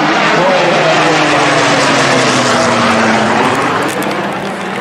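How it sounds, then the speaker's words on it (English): A Hawker Hurricane fighter plane passes overhead during an Armed Forces Day parade, its propeller engine drone loud and steady throughout, rising and slowly shifting in pitch as it flies by. "And here he comes, bang on time, the Hawker Hurricane of the Royal."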